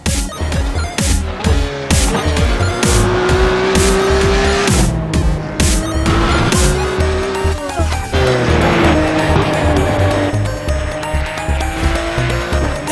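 A Porsche race car screams around a track in the iRacing simulator during a qualifying series, engine loud and steady with rising gear pulls, tire squeal and rapid shift clicks.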